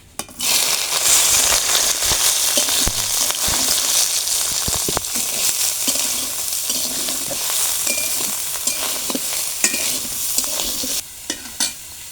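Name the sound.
soybean chunks frying in mustard oil in a wok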